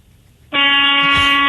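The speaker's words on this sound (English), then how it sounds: "Let me hear your horn, Jose." A car horn from a radio caller stuck in traffic gives one long, loud, steady blast that starts abruptly after a brief quiet moment and holds to the end.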